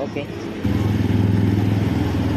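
A motorcycle engine that burns oil idles with a steady low throb, then jumps louder around the first second and keeps running at a higher, rougher pitch.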